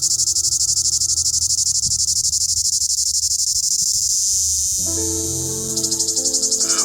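Massed cicadas in Mexican countryside drone in a loud, continuous high buzz that pulses rapidly, holding steady throughout with low rustling and faint background sounds beneath, easing slightly midway before swelling again.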